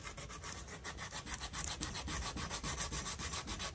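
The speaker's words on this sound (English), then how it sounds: "hold my knife in place so I can hand sand this guy" Coarse 80 grit 3M sandpaper is worked by hand over an African padauk hardwood knife handle, giving a steady rapid scratchy rubbing with quick back-and-forth strokes, close and continuous, with no talking.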